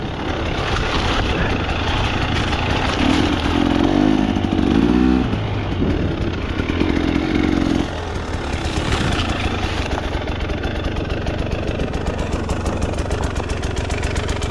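A KTM dirt bike engine on a trail ride, a steady, loud, rough engine drone with clattering mechanical noise and wind buffeting throughout.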